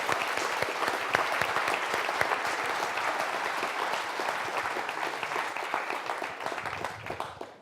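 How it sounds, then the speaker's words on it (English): An audience of a couple hundred people applauds steadily, a dense patter of many hands clapping that holds for several seconds before tapering off at the end. "Part of why I thought we should give Anne a round of applause"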